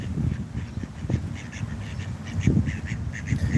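Ducks quack repeatedly as they wait to be fed snacks, a near, busy run of nasal quacks in irregular bursts, with several birds calling over one another.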